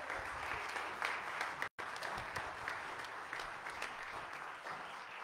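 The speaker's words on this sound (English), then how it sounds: "Can you give them one more round of applause?" Steady audience applause rings out for a group of girls at a congratulations gathering, a dense, continuous patter of clapping hands with a brief dropout partway through.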